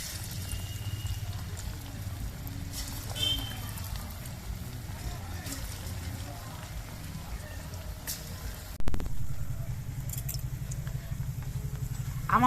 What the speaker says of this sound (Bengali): বাকি পকোড়াগুলো আমি এইভাবে ভেজে নিচ্ছি